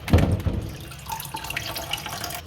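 Tap water runs and splashes close by as small kachki fish are rinsed in a kitchen, a steady wash with a louder gush at the start and no speech.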